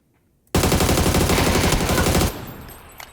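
A sudden loud burst of rapid automatic gunfire in PUBG, fired from a boat, lasting about two seconds, then cutting off to quieter trailing noise.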